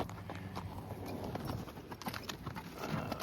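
A ridden horse's hooves clip-clop in a steady walking rhythm on a trail, close and continuous, with a loaded pack horse carrying grain sacks alongside.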